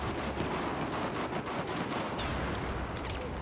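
Rapid gunfire from the video game Battlefield 4 makes a dense, continuous crackle of shots and blasts, loud and unbroken over a constant rumble, with no talking.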